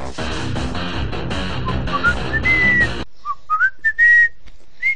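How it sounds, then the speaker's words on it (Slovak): A person whistles a short, rising-and-falling tune, first over loud cartoon music and then alone in near silence as a few clear, close whistled notes. "Pískam si"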